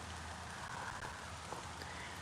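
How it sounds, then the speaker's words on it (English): Light rain sprinkling outdoors on an evening in Middle Tennessee, a soft, steady patter of drops with no voices over it. "I feel a sprinkle or something."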